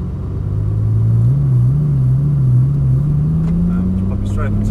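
A Lamborghini on a driving experience pulls away in first gear, its deep engine rumble rising steadily in pitch as it accelerates, loud and close from inside the car.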